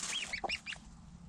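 A baby goose chick beside a hen gives a few quick, faint high peeps and honk-like calls in a short burst, close by with soft background noise.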